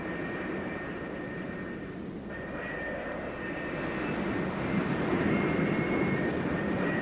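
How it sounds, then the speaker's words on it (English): McDonnell Douglas F-4 Phantom jets taxiing on an aircraft carrier deck toward launch: a continuous loud roar of jet engines with a high steady whine, building slightly in intensity, with no talking. "another pair of Phantoms taxis up for launch"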